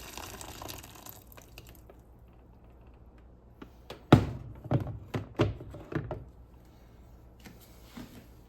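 Water sloshing and splashing in a bowl while a Bratz doll is washed, with a quiet running-water hiss at first, then several sharp thunks and splashes near the middle, and faint drips afterward.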